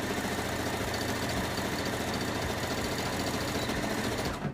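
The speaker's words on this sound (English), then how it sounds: "I'm gonna stitch forward and stitch back" A sewing machine stitches forward and back across fabric, a dense continuous mechanical whirr and rapid needle chatter, loud and steady throughout before stopping abruptly at the end.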